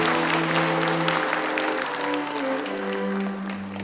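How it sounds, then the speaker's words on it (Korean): Applause at a school's 87th anniversary ceremony, steady clapping from an assembled crowd that runs throughout and eases slightly toward the end, heard over a low hum. "뒤돌아서서 경례 박수를 하는 시간입니다."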